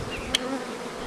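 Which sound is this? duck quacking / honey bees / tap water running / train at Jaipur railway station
honey bees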